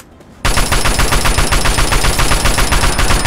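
Rapid automatic gunfire from the Fallout 3 video game kicks in after a brief quiet moment and then rattles on continuously, loud and close, as a steady stream of shots with no talking over it.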